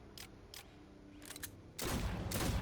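Weapon fire in the video game Aliens: Fireteam Elite, a U1A2 grenade launcher fired point blank, a few quick sharp shots followed by a loud dense burst of blasts at the end.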